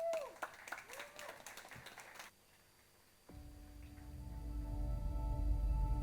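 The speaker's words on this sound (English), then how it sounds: "Please give him a round of applause." Audience applause breaks out at a conference keynote, a patter of scattered claps for the first two seconds before it stops abruptly, after which a low hum and rumbling room noise rise.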